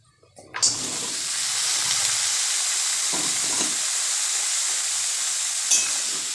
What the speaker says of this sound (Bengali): আর তোমার হচ্ছে তেজপাতা আর পেঁয়াজ, এগুলো দিয়ে একটু লাল লাল করে ভেজে নিচ্ছি